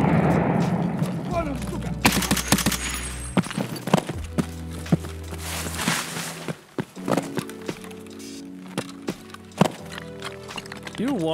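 Video game gunfire in a survival shooter, sharp scattered shots and thunks over about eleven seconds, mixed with footsteps and speech.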